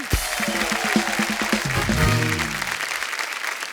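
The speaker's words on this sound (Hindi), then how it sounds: "तो एक बार जोरदार तालियां नीतू जी के लिए और रिद्धिमा के लिए।" Audience applause at a Hindi TV show taping honoring Neetu Kapoor and Riddhima Kapoor Sahni, broad clapping noise throughout with music tones and a voice underneath at the start, fading slightly toward the end.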